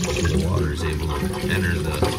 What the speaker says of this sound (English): We're gonna add water right now.